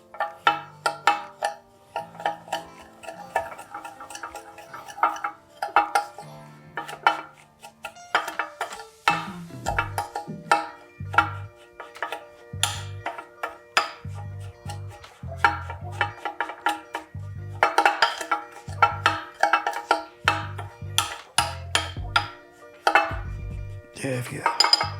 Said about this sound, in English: And you mix it up till you form it like a dough